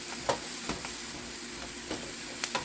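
Vegetables cook down in a pan with a soft, steady sizzle, broken by a few sharp clicks and scrapes from occasional stirring.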